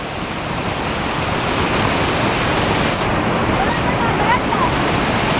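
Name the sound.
Batulantang waterfall, rushing water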